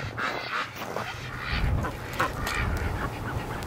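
Ducks at a duck hospital and breeding pen quack now and then, with a few short calls rising above steady wind and outdoor noise that persist throughout.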